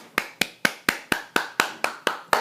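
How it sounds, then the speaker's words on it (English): Group of people clapping their hands in time, ten sharp, evenly spaced claps at a steady brisk rhythm, close and loud with no talking. "Everybody clap your hands!"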